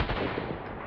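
A single gunshot rings out in a zombie survival video game, a loud crack followed by a sustained noisy rumble and echo that fills the full second with no voices.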